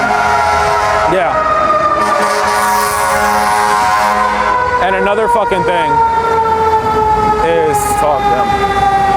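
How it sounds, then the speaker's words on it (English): A passing ambulance siren wails loudly with rising and falling sweeps, sustained over steady traffic noise while someone talks over it. "The fucking ambulance went by."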